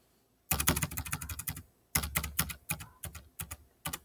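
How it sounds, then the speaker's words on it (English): Computer keyboard typing in a quiet room, with bursts of rapid, close keystrokes separated by short pauses, ending in a few isolated taps. "Make sure to just show you that you can type in here."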